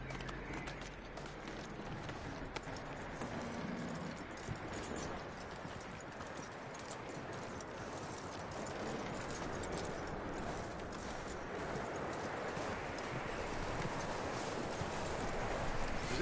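Horse hooves clip-clopping in the video game Red Dead Redemption 2, a steady rhythmic patter of hoofbeats at moderate distance that continues throughout, faint and alone without voices.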